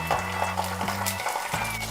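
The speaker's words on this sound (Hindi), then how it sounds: "अब इसमें 1 टेबलस्पून अदरक लहसुन का पेस्ट डाल देंगे।" Ginger garlic paste fries with golden onions in a pan, giving a steady close sizzle with light stirring scrapes over a low background hum.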